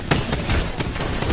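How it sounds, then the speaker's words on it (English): Rapid gunfire in the Apex Legends video game, a dense burst of loud overlapping shots with sharp repeated cracks, close and continuous over the short moment. "I'm being shot. Run away!"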